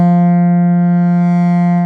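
Moog Model 15 modular synthesizer playing a loud sustained tone, its filter modulated by a sine wave, holding steady and bright for the whole stretch with no voices.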